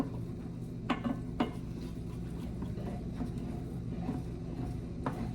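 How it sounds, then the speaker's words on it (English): A spoon stirs a thick, pasty sauce in a pan for skinny white chicken green chili enchiladas, giving faint, occasional scrapes and light clinks over a steady low kitchen hum. "Now, stirring for about 1 minute, stirring occasionally"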